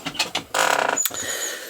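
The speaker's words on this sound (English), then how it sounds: "Sorry, I'm just putting the door behind me here." A garden door is pushed shut with a mechanical creak and a latching clunk, close and fairly loud, followed by a brief rattle as it settles.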